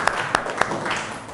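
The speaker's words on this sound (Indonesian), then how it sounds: "tepuk tangan dulu dong buat semuanya" A classroom of students claps briefly, the sharp hand claps standing out over a steady wash of scattered clapping and faint voices.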